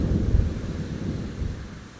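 Minecraft thunderstorm with rain, a deep rolling rumble of thunder over a steady wash of rain and wind noise, fading slightly toward the end.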